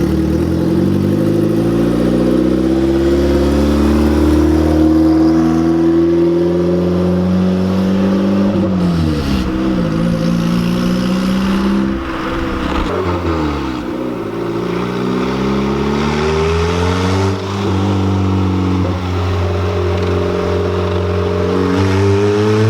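A boosted Honda EG car engine runs just after its first start, idling loudly up close with a steady mid-pitched drone. The note rises and dips a few times as it is revved and left to settle.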